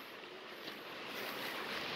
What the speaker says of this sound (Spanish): Así es como se encuentra el río corriendo por acá.